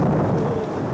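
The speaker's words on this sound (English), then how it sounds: "Electric thunderstorms descend on the Alps" Thunderstorm over the Alps during a rally stage, a dense, loud low rumble of thunder with rain noise mixed in, continuous for the whole moment.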